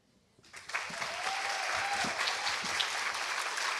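Audience applause at a Women's Day tribute ceremony, a dense sustained clapping that swells in quickly and holds steady, loud and close with no talk over it.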